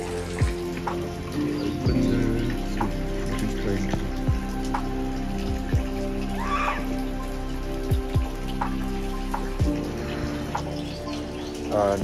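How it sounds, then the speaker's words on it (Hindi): Steady rain drumming on a surface, with drips and occasional louder drops, a bird chirping faintly in the background. "it's raining heavily"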